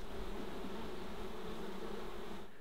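Bees swarm inside an orange tree with a steady, dense buzz that holds at an even level throughout, close and alone with no voices.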